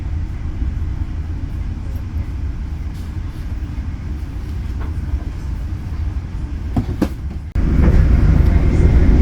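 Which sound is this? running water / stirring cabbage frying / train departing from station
train departing from station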